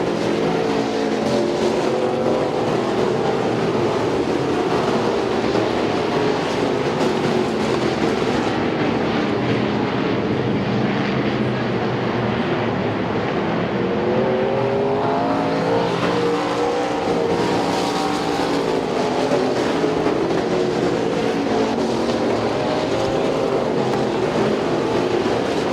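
Race cars lapping the Speedzone track three wide in a pack, a steady, loud drone of engines that rises and falls as the cars pass through the whole stretch, with no talk.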